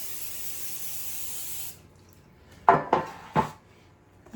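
A can of cooking spray hisses steadily onto a cake pan for under two seconds, followed by a few sharp metallic clanks of the pan being handled nearby.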